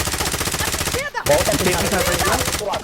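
Rapid automatic gunfire from the video game Call of Duty Warzone rattles in dense bursts, broken by a brief pause before the loud firing resumes.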